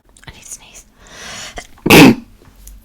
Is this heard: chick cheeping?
no